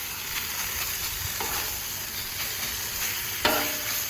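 Food frying on a Pit Boss griddle with salt, a steady close sizzle broken by a few sharp metallic chopping taps of a spatula against the flat-top surface, no talking.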